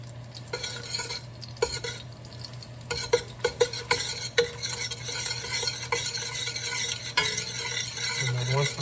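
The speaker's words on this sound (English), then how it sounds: "And then we'll keep stirring it for about 5 to 7 minutes" A spoon scrapes and stirs a roux of flour and butter in a hot pan, with a steady sizzle underneath and a rhythmic scraping that runs without a break, close and fairly loud, with no talk over it.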